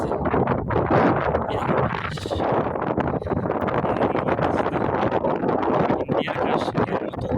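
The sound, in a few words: strong wind on a hilltop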